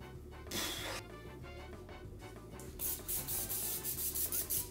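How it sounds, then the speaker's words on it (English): Cooking spray hissing onto a pizza pan, a few short bursts of aerosol spray close by, with brief rubbing sounds between them and no talk. "Spray your pan."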